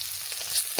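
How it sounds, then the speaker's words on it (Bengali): Tilapia fish frying in oil: a brief, steady hiss of sizzling close to the pan. "এরকম করে ভাজা করে নিচ্ছি"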